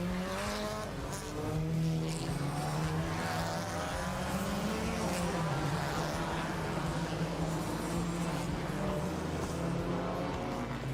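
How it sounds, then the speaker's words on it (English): TCR touring race cars pulling away on the formation lap at Rosario, a steady blended engine drone from several cars rising and settling, fairly loud and continuous, with no voices. "Now the cars are opening this formation lap"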